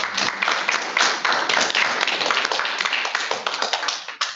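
Steady applause from a small group in an online meeting room, continuous claps throughout at moderate, even level with no talk.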